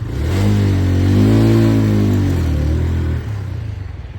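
A motorcycle engine revs loudly during an uphill start as the clutch is released with the throttle, its pitch rising and falling in one sustained strain before settling to a lower idle.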